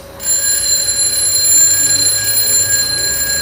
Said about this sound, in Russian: Давайте сначала послушаем его звонок в обыкновенном пространстве, чтобы оценить силу звука.